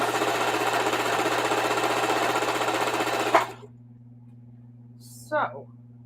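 A sewing machine runs fast and steady while stitching scrappy half-square-triangle quilt blocks, a close, continuous mechanical hum that stops abruptly partway through, followed by a short voice.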